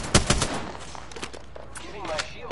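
Rapid gunfire in an Apex Legends match: a quick burst of several close, loud shots at the start, then fainter scattered shots and game effects.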